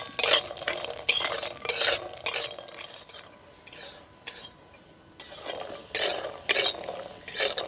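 Dry fruits fry lightly in a pan while a spoon stirs them, making repeated scraping and clinking strokes in bursts over a faint sizzle, with a short quieter pause midway.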